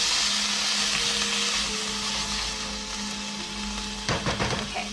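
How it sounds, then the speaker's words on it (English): Korokke potato filling sizzles steadily in a hot frying pan, and a short burst of scraping stirring near the end rises above the continuous frying hiss. "I'm going to give this a little stir."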